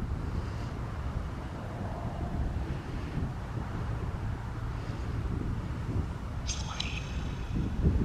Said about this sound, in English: Are you making the wind blow like this?